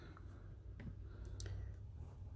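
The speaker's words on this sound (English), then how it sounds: "I'm typing this in, keeping the work shown so you can look at it." Soft clicks of typing on a computer keyboard during a remote algebra lesson, a few faint, scattered keystrokes over a steady low room hum.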